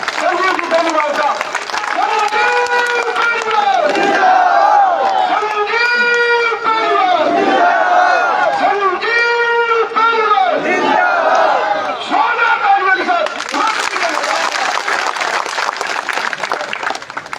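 A crowd at a public rally cheers and claps for a popular leader being welcomed to the stage, a loud continuous roar of voices with shouts rising over steady applause that builds toward the end.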